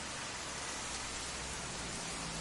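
Steady rain falling, a dense, even hiss of drops on surfaces that holds constant throughout with no voices.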